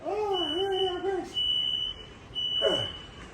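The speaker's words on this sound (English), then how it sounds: "I gotta fan the damn fucking fire alarm shit. This shit keep going on." A kitchen smoke alarm, set off by burning party wings, gives piercing high repeated beeps in regular bursts, with someone talking over it.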